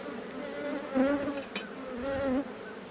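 Honeybees buzz during a late-season hive check before winter, agitated and close, with wavering, rising and falling buzzes weaving over a steady low hum.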